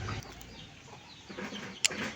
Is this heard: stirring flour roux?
no